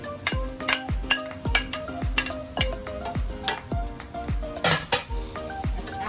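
Brown fried rice with whole spring onion leaves being stirred in a pan, a regular run of sharp metallic spatula clanks and scrapes against the pan under faint frying, no voices.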